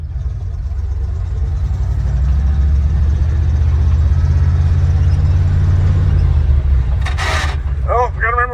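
A parked-for-decades IH Loadstar crewcab truck's engine runs with a steady low rumble as it pulls away in first gear, close and loud throughout, with a brief squeaky mechanical sound near the end.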